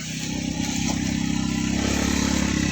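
A motorcycle engine revving close up, a loud steady throb that rises slightly and holds, with no talk over it.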